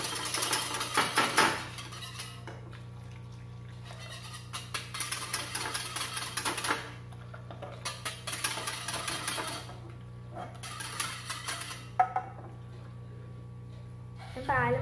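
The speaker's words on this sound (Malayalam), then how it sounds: "കുറച്ച് ഒഴിച്ചിട്ട് നന്നായിട്ട് ബീറ്റ് ചെയ്യാം കേട്ടോ" A whisk beats egg and milk for a creme flan pudding in a bowl, coming in repeated bursts of rapid rattling clatter separated by quieter pauses, with faint talk in the background.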